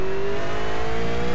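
A Holden Commodore race car engine in iRacing revs hard with a steady, buzzy drone and rising pitch, loud and close, lasting just over a second.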